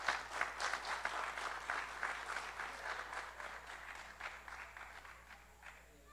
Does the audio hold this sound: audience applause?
yes